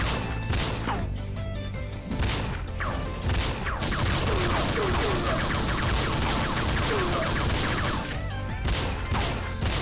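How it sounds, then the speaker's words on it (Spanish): Rapid bursts of Metal Slug 2 gunfire crackle continuously, dense and loud, with sharp impacts layered over a busy background. "pero mira esos disparos"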